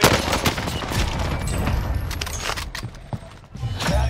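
Rapid TEC-9 bursts crackle in the Call of Duty Warzone video game on Rebirth Island, dense and loud through most of the stretch with a short lull before the firing resumes, and no talk over it.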